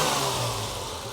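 A TVR 2500M engine revs with a snappy throttle response, a steady, loud, close mechanical roar that eases slightly toward the end.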